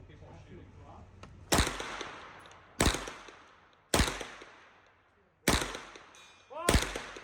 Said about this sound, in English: People are shooting.